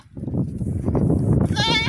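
Goats on a Beetal goat farm shuffle close by, then one clear, nasal bleat rings out near the end.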